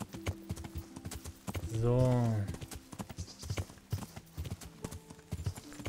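Horse hooves clip-clopping steadily at a riding pace in the video game Kingdom Come: Deliverance, close and rhythmic, with a brief voice saying a word over a rising tonal swell partway through.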